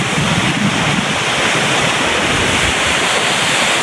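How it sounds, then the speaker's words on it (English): A huge Icelandic waterfall that can be walked behind roars in a steady, loud, unbroken wash of rushing water, mixed with some wind buffeting from close by. "this is a waterfall you can walk behind"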